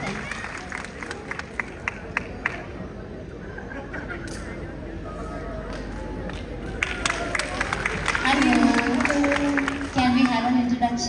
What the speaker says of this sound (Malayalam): കൈയടി